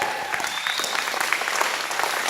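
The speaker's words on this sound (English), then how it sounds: "another round of applause for her" An audience claps steadily at a presentation for Sure Grip International, a dense, even round of applause filling the moment without talk.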